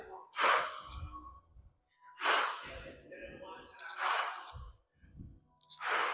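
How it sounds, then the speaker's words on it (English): Heavy, forceful exhales during a squat and press workout with 10 lb weights, several breathy bursts about every two seconds, close and fairly loud, with short grunting sounds between them. "Exhale as you come up."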